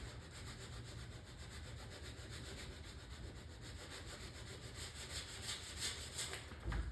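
Power sander working over a plywood arcade cabinet during a Sinistar restoration, a steady, dense abrasive hiss and whir running continuously and close, with no talking.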